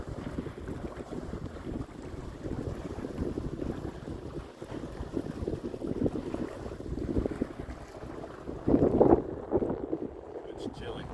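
A sailboat under sail on a beam reach with both sails up, moving at an easy pace. Steady wind buffeting and water rush fill the scene throughout, with a louder gust near the end.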